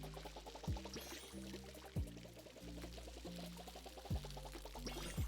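A watering can pours water in the farming game Palia, a soft continuous trickle under a gentle looping music bed with periodic plucked tones, quiet overall.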